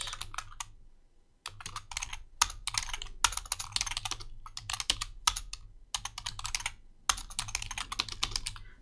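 Rapid bursts of typing on a computer keyboard as a file name is entered to save a PowerPoint 2019 presentation, the keys clattering in quick runs separated by short pauses, close and clear with no talk.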